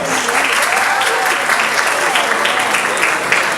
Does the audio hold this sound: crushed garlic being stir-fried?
no